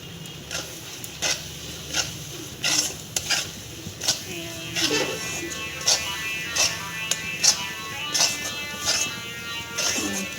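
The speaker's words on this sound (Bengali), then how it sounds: "এর মধ্যে শুধু আমি একটু পাউডার দুধ মিক্স করছি" A spoon stirs powdered milk into milk reduced by half in a pot for orange rasmalai, giving repeated close scraping strokes and light metallic taps in an irregular rhythm, with no talking.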